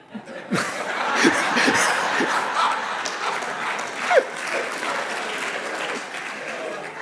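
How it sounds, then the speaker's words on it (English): A crowd claps steadily for several seconds, mixed with scattered chuckles and laughter across the room. "I don't know why you're clapping, it hurt."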